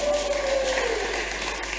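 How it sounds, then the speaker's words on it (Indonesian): A church congregation claps steadily throughout an Easter service, a dense wash of applause filling the space. "Berikan tepuk tangan bagi Tuhan."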